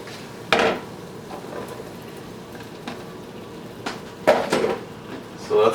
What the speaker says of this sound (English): we're going to throw in the radishes and the potatoes